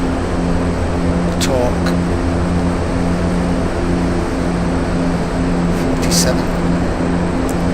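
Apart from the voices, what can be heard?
Aerosoft Twin Otter propeller plane climbing, from flight simulator game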